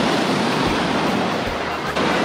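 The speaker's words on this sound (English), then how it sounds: "Waves are pretty strong." Strong ocean waves crash and roar onto a beach at Puerto Escondido, Oaxaca, a loud, continuous surf wash with wind buffeting the microphone and no speech.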